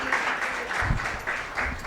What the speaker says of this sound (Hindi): ये दृश्य के लिए एक बार जोरदार तालियां हो जाए